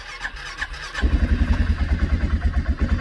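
A gasoline engine that tolerates bad fuel is pulled over with a few faint tries, then catches and settles into a loud, steady, throbbing run.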